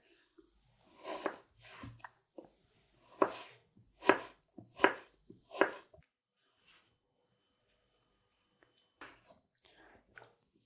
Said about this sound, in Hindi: तो एप्पल को अगर आपने यूनिफॉर्म साइज में काटना हो तो इस तरह से काट सकते हैं आप